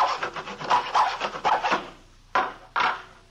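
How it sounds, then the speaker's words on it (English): A hacksaw cutting through plywood: a run of quick, rasping back-and-forth strokes, then a pause and two separate, more forceful strokes, close and clear with no talking. "he was sawing on a piece of plywood with a hacksaw"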